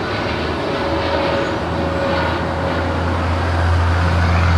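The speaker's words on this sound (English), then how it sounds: "1598 departing to Chicago on a 787-8 Dreamliner" An American Airlines Boeing 787-8 Dreamliner departs LAX bound for Chicago with a loud, continuous jet engine roar and a low steady hum. The sound stays constant and close, with no talk over it.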